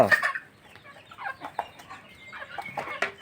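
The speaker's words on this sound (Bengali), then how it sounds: "আব্বু কি করতেছ বাবা, মুরগিরে খাওয়াইতেছ?" Several chickens cluck nearby in short irregular bursts as they are fed, with a sharper squawk at the start and soft clucks scattered throughout.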